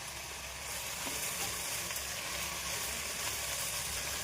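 Mushrooms fry in a pan with a steady, close sizzle while being stirred and mixed, a continuous crackling hiss heard alone without talk.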